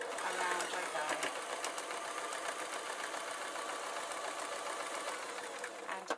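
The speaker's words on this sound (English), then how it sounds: "Now I'm going to sew around the top again with my corners nicely pushed down, and around I go." A sewing machine stitches around the top of a fabric crayon case, a fast continuous close whirr of rapid needle strokes running steadily for about six seconds.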